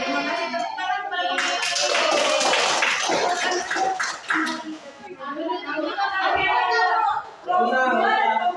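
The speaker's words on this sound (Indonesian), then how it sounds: "Terima kasih tepuk tangan kepada" Applause for student groups in a classroom, a dense burst of many hands clapping that swells and holds for several seconds, then fades and returns, with children's voices and chatter mixed throughout.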